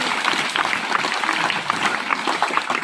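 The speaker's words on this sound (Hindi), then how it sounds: "शाबाश, ताली बजाओ इसके लिए बेटी को।" Students in a Rajasthan classroom clap for a girl, a brisk, dense patter of applause that holds steady for a few seconds, close and fairly loud.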